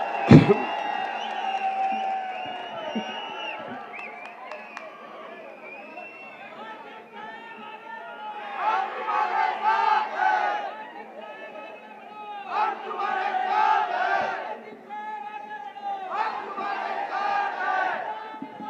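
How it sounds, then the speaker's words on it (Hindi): A crowd at a political rally in Maharashtra shouts and cheers, with a voice over the loudspeaker at first, then three loud surges of roaring, slogan-like cheering with whoops, separated by quieter stretches of murmur. "एक मर्तबा पुरजोर तालियां बजाए"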